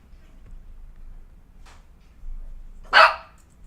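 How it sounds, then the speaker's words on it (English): A dog gives a single short bark from another room, fairly faint and set against near-silence, followed by a brief muffled sound. "She just barked at me."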